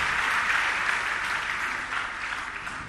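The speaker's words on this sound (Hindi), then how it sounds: "एक बार जोरदार तालियों से अरविंद भाई का सम्मान करें" Loud, dense applause from a large audience at a Jain religious discourse, honouring a man named Arvind, steady and sustained for a few seconds with no voices over it.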